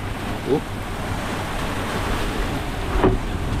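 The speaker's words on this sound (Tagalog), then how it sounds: "sobrang lakas talaga ng hangin" Strong wind buffets the microphone over a constant roar of sea waves, with a couple of faint brief voice-like sounds, during a strong gale at sea.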